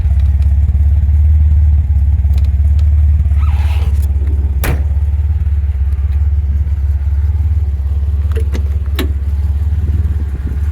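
A 1968 MG MGC GT engine idles at about 800-900 rpm, rumbling continuously and evenly up close, with a few faint clicks and knocks in the background.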